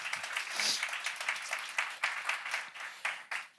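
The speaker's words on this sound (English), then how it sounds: "Please, a warm round of applause for our speakers" An audience claps for the speakers at a communication conference, a fairly soft, sustained round of applause with scattered individual claps standing out, heard from some distance.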